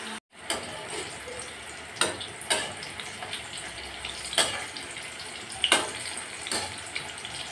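Hot oil sizzles and crackles steadily while frying apple slices, with occasional louder pops and spits standing out from the continuous hiss.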